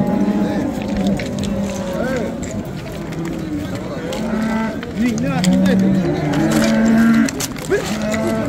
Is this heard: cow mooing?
yes